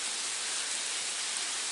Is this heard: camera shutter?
no